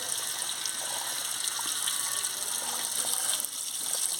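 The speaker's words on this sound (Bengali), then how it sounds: "কাটা হয়ে গেছে, এবারে ধুয়ে নিচ্ছি।" Running water pours steadily over freshly chopped papaya being washed for a Bengali papaya curry, a continuous close gush with no talk.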